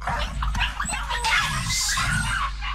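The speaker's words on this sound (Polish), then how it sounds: "małe psy" Small dogs yelp and whimper in Layers of Fear 2. The sharp, excited calls come from nearby over a low rumbling backdrop.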